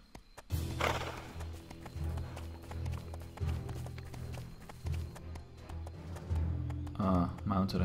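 Horse galloping with hoof clip-clops and a neigh in the online fantasy game Riders of Icarus, mixed with game effects and a voice talking over it throughout.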